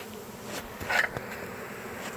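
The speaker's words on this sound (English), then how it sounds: "So some of the bees are in the box over here, but nobody's marching." Honeybees buzz steadily in a hive being cut out of a floor, a close, fairly quiet drone with a brief louder swell partway through, and no talking.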